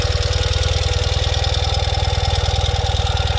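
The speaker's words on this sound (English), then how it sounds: "Fires up without a hesitation and idles quite happily" A 2020 Ural Gear Up sidecar motorcycle idles steadily just after a cold start, its low, even engine pulse loud and close with a fast regular beat and no talking.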